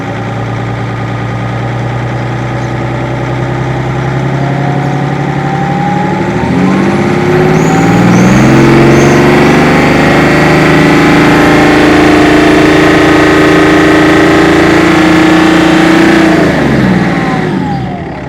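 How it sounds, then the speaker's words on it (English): A BMW six-cylinder diesel engine in a station wagon in Gran Turismo 2 idles with a low, loud drone, then revs up and holds a rising, strained note before easing off near the end. No one speaks. "The engine does have its signature BMW 6-cylinder noise, even if it is a diesel."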